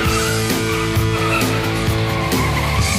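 A 2006 Porsche Boxster S brakes hard from 100 km/h, its tires squealing loudly and continuously under the engine noise throughout.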